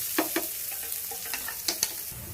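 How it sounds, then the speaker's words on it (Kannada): Sliced onion and garlic fry in a pan under a constant sizzle, with a few sharp scraping stirs close by and no voices. "ಈರುಳ್ಳಿ ಬೆಳ್ಳುಳ್ಳಿ ಎಲ್ಲನೂ ಫ್ರೈ ಆಗಿದೆ, ಚೆನ್ನಾಗೆ ರೋಸ್ಟ್ ಥರ"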